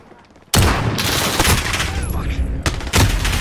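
Video game gunfire erupts suddenly after a quiet moment, loud close bursts of rapid shots with a sharp renewed volley near the end.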